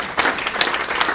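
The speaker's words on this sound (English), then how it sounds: "I'd be clapping if I could." Audience applause at a women's community group meeting welcoming a new assistant director, a brief burst of steady clapping heard up close without voices.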